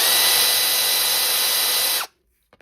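Bosch 12V power tool running on a PowerExtra aftermarket battery, a steady high-pitched motor whine at full speed for two seconds that then cuts off abruptly into near silence.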